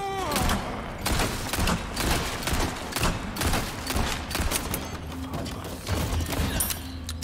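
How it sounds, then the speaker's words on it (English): Gunfire in Resident Evil 4 Remake rattles through a dense game soundtrack, with repeated sharp shots and mechanical clatter sounding close and loud across the whole stretch. "Who's shooting me?"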